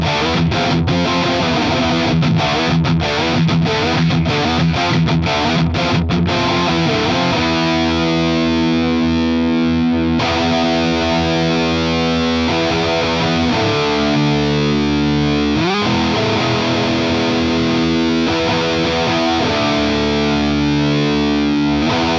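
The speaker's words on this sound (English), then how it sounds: "let's switch over to something higher gain and a bit more modern in the Orange Dark" Modern high-gain electric guitar played through an Orange Dark Terror amp, loud saturated distorted tone with chugging palm-muted riffs that open into sustained ringing chords, heard alone without any voices.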